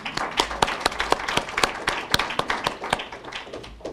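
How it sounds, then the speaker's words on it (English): Audience applause at a lecture event, dense overlapping hand claps with sharp individual claps standing out, steady and fairly close throughout, no talking. "So we should give an applause to them, don't you think?"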